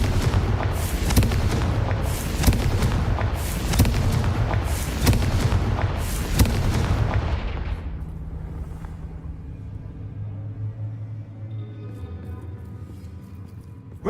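Confringo blasting curse explosions in Hogwarts Legacy, a rapid run of loud booming blasts for about seven seconds, then a fading rumble and quieter ambience.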